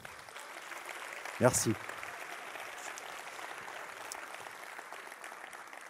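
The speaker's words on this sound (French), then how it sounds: "Vous pouvez vous applaudir." Audience clapping at a closing ceremony, a faint steady patter of applause in the background while a voice briefly speaks over it.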